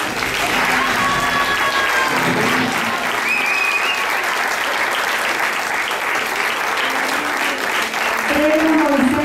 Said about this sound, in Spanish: aplaudan a Donete Ponce.